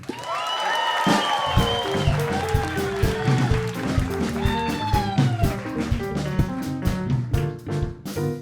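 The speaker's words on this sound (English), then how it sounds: "put your hands together with a lot of applause" Applause from a comedy club audience greeting comedian Nicole Buchanan at a stand-up competition, a steady wash of clapping that runs the whole stretch, mixed with tonal music playing underneath.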